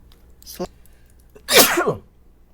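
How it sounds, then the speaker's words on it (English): A short sharp intake sound, then one loud, close sneeze with a gusty burst, heard alone in an otherwise quiet room. "Sorry, I gotta sneeze"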